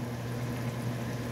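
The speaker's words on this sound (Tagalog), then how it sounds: "kumukulo-kulo siya. Talaga." A pot of beef steak boiling over a low flame, a steady close bubbling and simmering hiss, brief and continuous with no talking.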